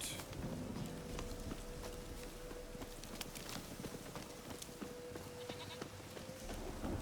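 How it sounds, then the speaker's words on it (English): A pet goat bleats in the video game The Witcher 3: Wild Hunt, its calls mixed with faint hoof clip-clops and steady ambient game noise, with no speech. "Oh, the pet goat is still here."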